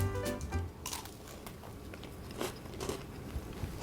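Crunchy bites into a white chocolate and Oreo pumpkin treat, a few close crackling crunches and chewing sounds in a quiet room, with no talking.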